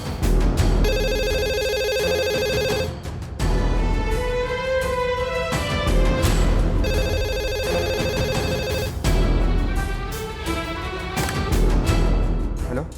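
Landline telephone ringing in repeated electronic bursts, two ring cycles separated by brief gaps, loud and close with background music-like tones and no speech.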